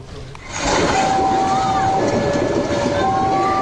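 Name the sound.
Ranggajati train passing level crossing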